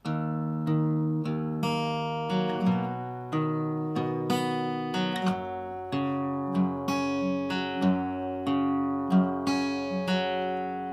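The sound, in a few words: guitar fingerpicking pattern, slow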